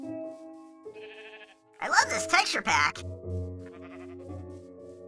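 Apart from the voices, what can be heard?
sheep bleating in a video game (Minecraft)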